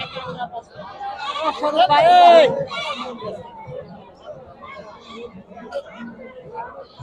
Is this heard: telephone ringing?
no